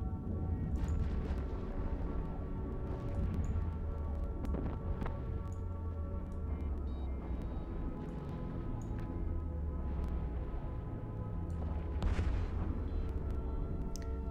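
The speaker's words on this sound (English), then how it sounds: "More explosions." Explosions in a space battle in the game EVE Online, a continuous rumbling low-frequency roar with repeated booming impacts layered over it, dense and unrelenting throughout.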